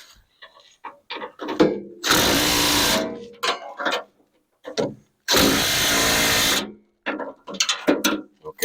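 Two loud, close bursts of a power tool tightening bolts on a snowblower, each lasting about a second, separated and surrounded by sharp clicks and clanks of handling metal parts.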